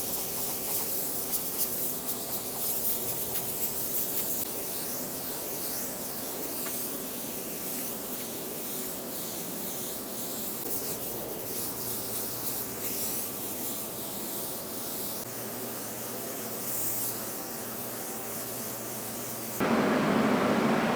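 Spray gun laying a heavier clear coat onto car paint in a home garage, a continuous soft hiss running steadily for about twenty seconds, with a brief louder burst at the end.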